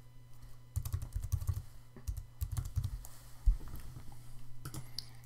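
Quick bursts of keystrokes on a computer keyboard as a website address is typed, close and clear, with short pauses between clusters of clicks and no voices.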